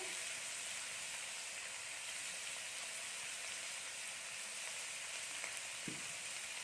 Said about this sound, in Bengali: এবার আমরা এগুলোকে খুব ভালো করে একটু ভেজে নেব